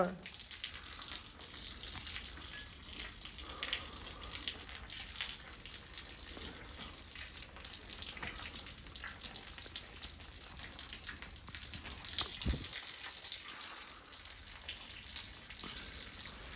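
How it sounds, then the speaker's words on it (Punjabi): Water falling and splashing near spilled cement during heavy rain, a steady close wash of patter and trickling with scattered drips, while someone talks over it. "ਪਾਣੀ ਉਹ ਗਿਰ ਰਿਹਾ"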